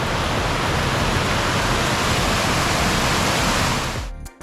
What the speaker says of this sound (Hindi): यहाँ पर है वाटरफॉल और अब हमें इसको क्रॉस करके जाना है।